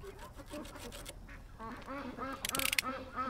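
Ducks quack repeatedly at close range, a busy cluster of calls with a brief louder flurry near the end and no talking.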